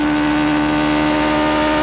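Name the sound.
Toyota Atlantic race car engine at Long Beach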